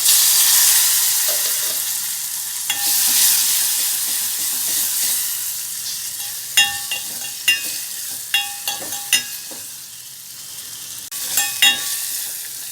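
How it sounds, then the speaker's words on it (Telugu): Chopped large tomato dropped into hot oil for tomato pepper rasam, a steady loud sizzle and frying hiss with sharp spitting crackles and pops partway through, no voices. "ఇందులో ముక్కలుగా కట్ చేసుకున్న ఒక పెద్ద టమాటోని వేసుకోవాలి."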